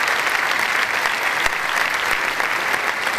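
An audience applauds at the closing ceremony of the Mar del Plata film festival, a dense, steady wash of clapping from many hands that fills the whole stretch without a break.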